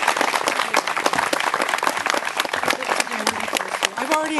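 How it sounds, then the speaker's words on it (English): Audience applause at an open-microphone community meeting about chemical exposure near Triangle Lake, a dense, steady clatter of many hands lasting the whole stretch, with voices mixed in toward the end. "Please give a round of applause to Esther."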